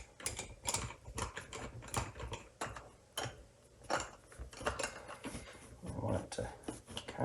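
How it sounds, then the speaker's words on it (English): Small clamps are ratcheted and tightened by hand on a lifted interior car dash component, a quiet run of close clicks, taps and rattles in irregular rhythm, without speech. "Let me start clamping."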